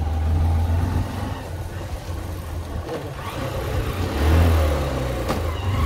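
Cars and other vehicles move slowly along a winding ghat road near Jatani, Odisha, giving a steady, close engine rumble that swells briefly near the end, with no talk over it.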